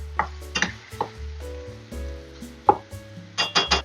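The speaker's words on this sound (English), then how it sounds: "what we want from this, again, is for our corn to kind of brown some, our onions to be sauteed, and of course our bacon to become a little crispy" Corn, onions and bacon frying together in a pan: a low continuous sizzle with several clattering stirs and scrapes of a utensil against the pan.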